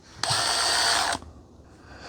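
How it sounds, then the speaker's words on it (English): A Milwaukee concrete drill bit spins in a hammer drill set to hammer mode, giving one loud, steady burst of about a second that starts and stops abruptly, then quiet room tone. "But make sure you're on hammer drill."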